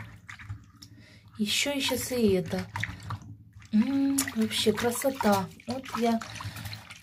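Tap water running while marker ink is rinsed off a cross-stitch canvas: a low, steady hiss of flowing water runs beneath a person speaking, with occasional small clicks.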